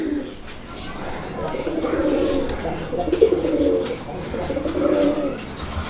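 Several Raj Golla pigeons coo nearby in repeated low, rolling bursts while a person talks over them at a pigeon seller's.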